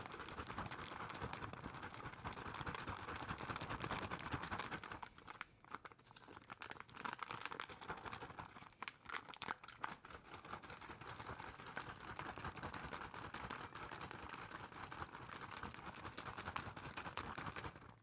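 A zipped MRE pouch is shaken to mix its contents, giving a continuous busy crinkling and rustling of plastic that carries on steadily for a long stretch, close up, with a brief lull partway through and no talking.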